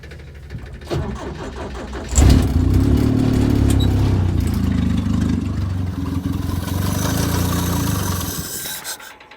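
A Toyota Wolverine engine cranks briefly, then fires up and runs with a rough, loud, uneven idle, settling into a steady mechanical drone before cutting off abruptly at the end.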